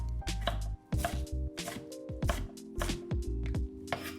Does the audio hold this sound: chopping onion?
yes